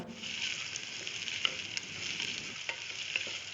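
Split green chillies stir-fried in a pan, scraped and stirred with a steady crackling sizzle that runs throughout, close and moderately loud with a few sharper clicks of the spoon against the pan.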